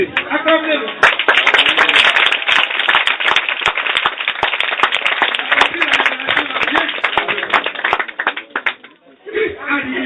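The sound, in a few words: audience applause in church meeting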